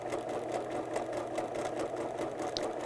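A sewing machine runs a zigzag stitch attaching elastic to fabric, a steady fast mechanical whir with rapid needle ticks, close and continuous, with a faint brief click partway through.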